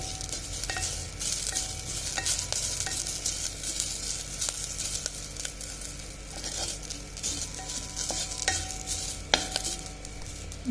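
Sambar masala sautéed and stirred in a pan for Puneri misal pav, a steady frying sizzle with scraping stirs and occasional utensil taps throughout.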